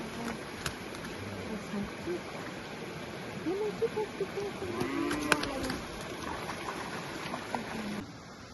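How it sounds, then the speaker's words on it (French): A curious cow moos in flooded rice fields as it approaches, a few drawn-out lowing calls at moderate distance over steady water and outdoor noise, with faint voices nearby. "Une vache curieuse, elle vient vers nous."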